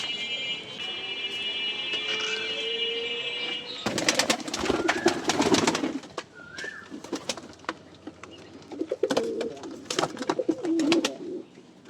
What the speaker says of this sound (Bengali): এই হলো আমার কবুতর